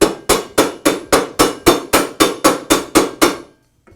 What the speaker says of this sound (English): You can even use the back of a screwdriver to lightly tap it into place on the blade